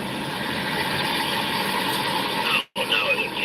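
An empty truck idles nearby at night with a steady, droning engine hum and broadband noise that holds constant, then cuts out briefly before resuming.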